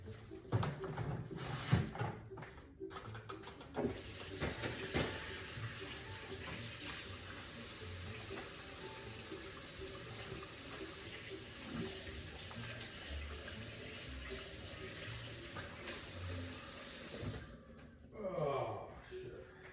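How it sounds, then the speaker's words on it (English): Kitchen tap running steadily while hands are washed after handling raw meat, a continuous close hiss of water with small splashes and shifts in flow. "I'm gonna go wash my hands."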